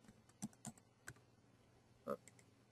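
Computer keyboard typing a search, a few faint, quiet key taps spaced irregularly with a louder cluster near the end, in a quiet room.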